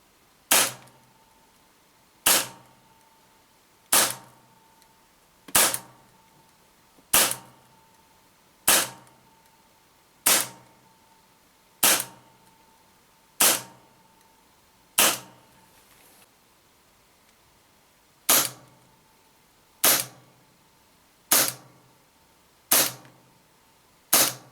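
Hi-Capa airsoft pistols fired one shot at a time through a chronograph, about fourteen sharp, evenly spaced cracks, each with a short ringing tail, loud and close with no talking.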